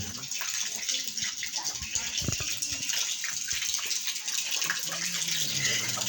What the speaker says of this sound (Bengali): দুপুরবেলা থেকে অঝোরে বৃষ্টি শুরু হয়ে গেছে।